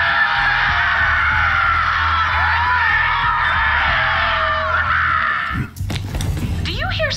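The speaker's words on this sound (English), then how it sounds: "Do you hear screaming, or am I having another one of my episodes?" Distant screaming carried on the wind in the Borderlands 3 video game, a sustained wavering wail of voices over a low rumble for several seconds, then cut off by sharper, closer shouts near the end.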